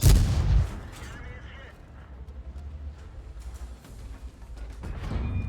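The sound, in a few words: tank gun firing in World of Tanks video game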